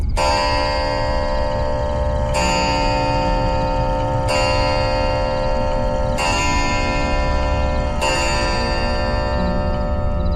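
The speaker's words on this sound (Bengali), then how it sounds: "বাইরের গম্বুজের ঘড়িতে পরপর 5 বার ঘন্টা বাজল।" A clock bell in an outdoor dome strikes five times, each loud, resonant chime falling about two seconds after the last and ringing on into the next, with no voices.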